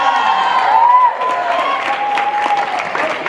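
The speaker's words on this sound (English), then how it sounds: "let's get a big round of applause for the tracksters making the state" Audience applause and cheering for state-qualifying track athletes at a high school student body assembly: a dense, steady crowd clapping with some voices and whoops mixed in, filling the whole stretch.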